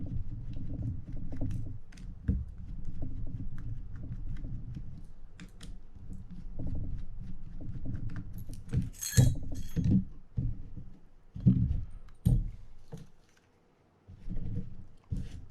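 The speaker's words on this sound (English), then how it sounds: "Removing the click plate now by taking off these 4 screws" Small metal clicks and clinks as four screws are backed out of the click plate on a Penn International II 16S fishing reel, scattered light taps over a steady low background hum, growing sharper toward the end.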